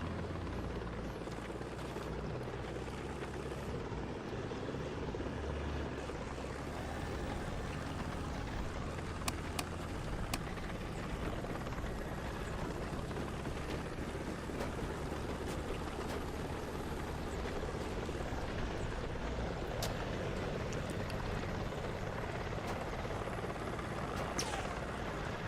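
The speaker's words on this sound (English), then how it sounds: "It was a heli." Helicopter rotor noise in a multicrew tank combat video game, a steady loud thrumming wash that fills the whole stretch without pause, with faint clanks and game effects scattered through it.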